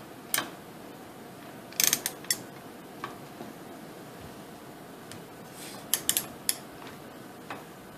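Wrench tightening an AR-15 barrel nut, faint scattered metallic clicks and ticks arriving in small clusters over a quiet background, close by with no speech.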